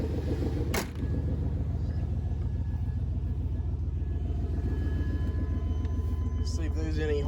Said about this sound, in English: We're gonna go take her out for a drive right now.